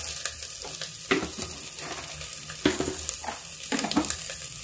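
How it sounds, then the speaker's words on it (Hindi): Cabbage and peas fry in a pan with a little oil, giving a soft continuous sizzle broken by several sharper scraping stirs, close and moderately quiet with no talking. "मैं इस सबको अच्छी तरह से फ्राई करती हूँ"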